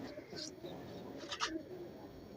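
Soft pigeon cooing mixes with faint chirps in a quiet, noisy space, a few brief low calls amid background hiss.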